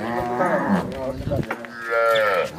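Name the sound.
Jersey-Cholistani cross cow mooing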